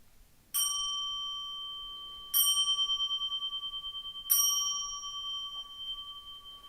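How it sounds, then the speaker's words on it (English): A meditation bell rings three times at a Zen Buddhist service, each clear metallic strike spaced about two seconds apart and left to ring out with a long, shimmering decay in a quiet room. "Okay, 3 bells."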